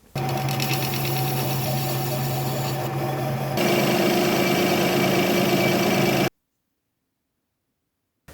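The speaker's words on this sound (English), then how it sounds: "I have to machine this lip off" A lathe machines a lip off a part for a 150cc four-stroke engine, running as a steady loud drone with a tonal hum that steps up partway, then cuts off abruptly to silence.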